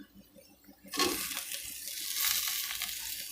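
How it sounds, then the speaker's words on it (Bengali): Fried cauliflower drops into a spice paste in a pan for a fish curry. After near silence comes a sudden loud rush of sizzling that keeps going as a strong, steady fry. "এখন এখানে আমি ফুলকপি ছেড়ে দিই"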